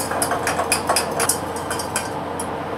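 Roux of butter and flour being whisked quickly in a saucepan over low heat, giving a steady busy scraping with light metallic clinks and taps, fairly close and continuous throughout.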